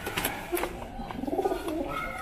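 Soft, throaty pigeon cooing close by, a few rolling coos over a light background hum.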